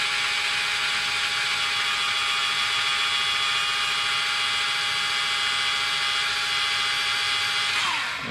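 Small Tamiya electric hobby drill running at roughly 500 RPM whines with a steady high-pitched motor buzz, loud and close, holding constant for about eight seconds before spinning down at the end.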